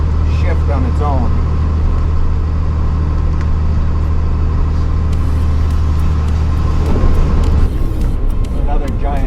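Truck engine in low-range crawl mode off-road near Mt. Emily recreation area, a loud steady low rumble with gear whine, constant throughout as the vehicle climbs and descends hills, with voices talking over it.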